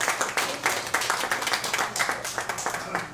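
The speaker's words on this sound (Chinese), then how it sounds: "我们再次掌声表示感谢。" Audience applause at a Qinqiang opera ceremony in which a rising performer formally honours her teachers: a dense, steady patter of many hands clapping that fills the whole stretch, fairly close, with no talk over it.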